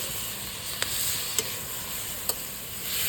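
Chicken manchurian being stirred in a frying pan, a steady close sizzle with three sharp spatula clicks against the pan spaced across a few seconds.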